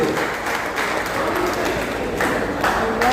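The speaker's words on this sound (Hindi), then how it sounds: "जोरदार ताली से।" Loud, sustained applause rises from a political rally crowd in Begusarai, Bihar, a dense wash of many hands clapping close by that swells in waves without stopping.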